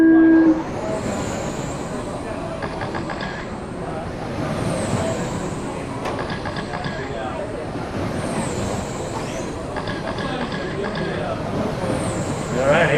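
A short, steady electronic start tone opens a 13.5 Super Stock A main at an RC car race. It is followed by a loud, continuous whine of electric model cars circling the track and an announcer talking over them.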